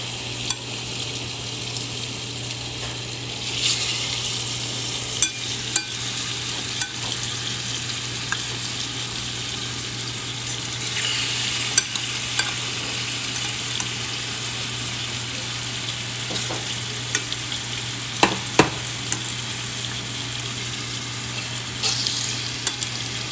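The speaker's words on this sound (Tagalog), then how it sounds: "Stir-fry lang natin yan." Beef and broccoli stir-frying in a pan, a steady low sizzle running throughout with occasional scrapes and clicks of stirring, close and continuous with no voices.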